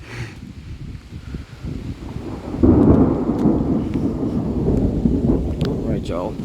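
Thunder from an afternoon summer storm rumbles low and heavy, swelling into a loud sustained roll midway amid rain and gusty wind noise, with people speaking nearby.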